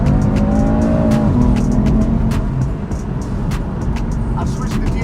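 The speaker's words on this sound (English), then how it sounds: "I've switched the DSC off from there, and you can actually feel the car sliding" A 2017 BMW M3 Stage 1 with DSG gearbox and stability control switched off slides under power, its loud engine roaring steadily with tire squeal mixed in and a voice talking over it.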